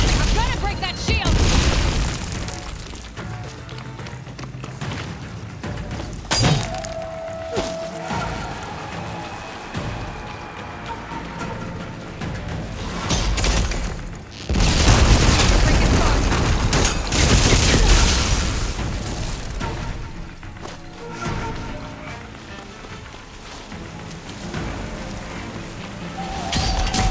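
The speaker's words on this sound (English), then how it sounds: "I'm gonna break that shield!" Explosive shots break an enemy's shield in Horizon Forbidden West. Loud booms and crashing blasts arrive in bursts, with rumbling battle noise between them and a voice talking at times.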